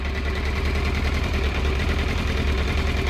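A Yamaha FZS 600 Fazer motorcycle engine idles steadily up close during carburetor synchronization, a continuous low rumble with an even throbbing pulse throughout.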